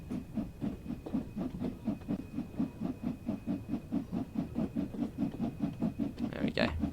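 BR Black Jubilee steam locomotive pulling away in Train Sim World 3 on a West Cornwall local line, with rhythmic chuffing exhaust beats steadily picking up pace and a brief hissing burst near the end.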